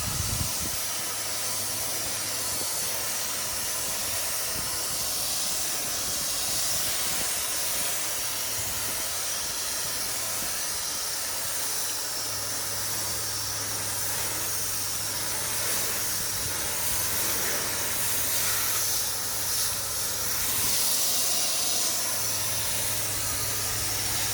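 A pressure washer rinsing the outside of a house gives a continuous, even hiss of spraying water. It stays steady at moderate level for the whole stretch, with no talk.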